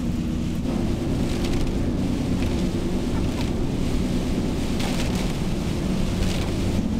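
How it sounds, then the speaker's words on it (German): Steady heavy rain roars against a vehicle, a dense continuous wash of noise with a low rumble underneath and no voices. "weil es einfach so doll regnet"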